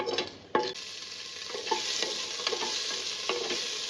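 Cinnamon and cardamom roast in a little oil while being stirred. There is a soft, constant sizzle with a sharp scrape near the start and light scraping strokes throughout.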